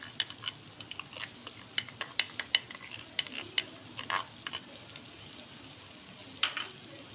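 Tomato puree sizzling in melted butter in a pan for chicken makhani, a steady low fry with a run of sharp spoon-on-pan clinks and scrapes scattered throughout, close and moderately loud, no talking.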